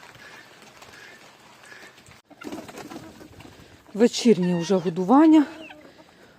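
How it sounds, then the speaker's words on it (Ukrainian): Pigeons flutter and coo while chickens and guinea fowl cluck at feeding in the rain, growing busier and louder partway through, with a person talking quietly at the start. "Позліталися усі і голуби, і кури, і цесарки."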